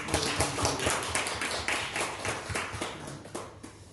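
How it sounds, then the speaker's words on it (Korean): A church congregation claps together during a Sunday worship service, a dense run of close hand claps that tapers off toward the end. "우리 박수 한번 해주시죠."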